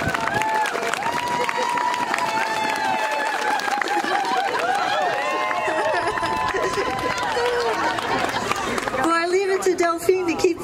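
Crowd at a Rosie the Riveter Day event in Lansing, Michigan cheering and clapping for an honoree who assembled aircraft at Glen L. Martin during the war, a steady dense roar of applause and voices that brightens with whoops near the end.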